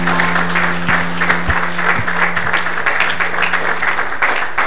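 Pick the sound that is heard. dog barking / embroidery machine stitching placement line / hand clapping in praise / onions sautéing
hand clapping in praise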